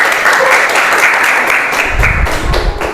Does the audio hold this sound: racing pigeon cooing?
no